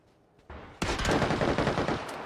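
Automatic MG3 machine gun fire in a video game, a quiet lead-in then a loud, dense burst of rapid shots rolling on without pause.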